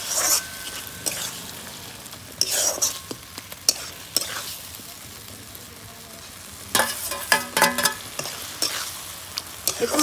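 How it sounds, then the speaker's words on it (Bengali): Grated and chopped tomatoes fry in a gravy masala for potol dorma, a loud close sizzle broken by repeated bursts of spatula scraping and stirring, with no voices. "এবার আমি গ্রেট করে রাখা টমেটো আর একটু তার সাথে কুচানো টমেটোটা একসাথে দিয়ে, তাহলে বেশ গ্রেভিটা ভালো হবে।"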